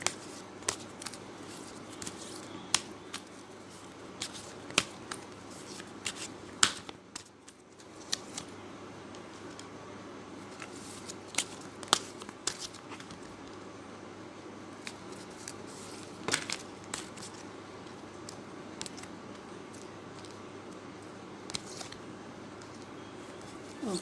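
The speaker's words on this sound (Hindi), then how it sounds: "First I will take the love cards." Tarot love cards being shuffled by hand, quiet soft riffles and scattered sharp papery flicks and taps in a calm room, with brief pauses between bursts.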